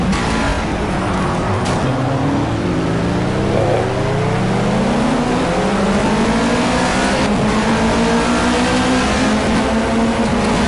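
Race cars in the driving game Project Cars, a loud continuous engine roar with rising and falling revs as several cars accelerate off the starting grid together.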